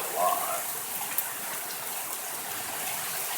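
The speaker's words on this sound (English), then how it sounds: "the rain is like a fine mist" Fine misty rain falls during a severe, tornadic evening storm in North Platte, Nebraska, a steady even hiss throughout with a faint brief tap early on.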